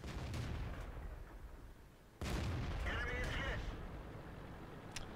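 A tank cannon fires in World of Tanks, one sudden heavy boom midway that rolls into a sustained rumble over constant battle background noise.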